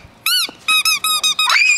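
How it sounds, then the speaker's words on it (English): A dog's favorite squeaky toy, newly bought, squeals in a run of loud, shrill, close squeaks: one long squeeze, then four or five short bursts in quick succession with no talking over them. "she loves squeaky toys, and this is her favorite one that we just bought her"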